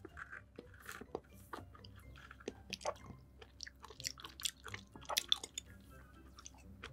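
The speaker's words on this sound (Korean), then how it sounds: "지금 엄청 갈증나서 우선 펄 추가한 그릭 요거트 밀크티" Someone nearby eats Greek yogurt milk tea with added tapioca pearls, making quiet, irregular wet chewing and squishy bites with occasional crunchy clicks over several seconds.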